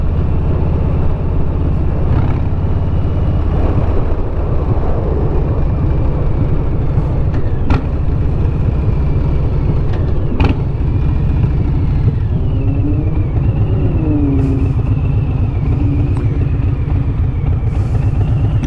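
A 2021 Harley-Davidson Softail Standard motorcycle engine runs steadily and loudly throughout, with a deep, continuous rumble and slight shifts in pitch as it revs.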